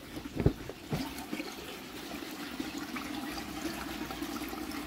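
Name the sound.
water being pumped into greenhouse tank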